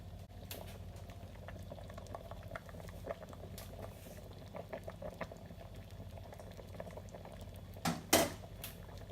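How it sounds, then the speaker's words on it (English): Vegan Jamaican ital soup with soft vegetables simmers in a pot, a steady low bubbling that runs through the whole stretch, with a brief louder clatter near the end. "Soup has been cooking for 50 minutes total now, and it's reduced down"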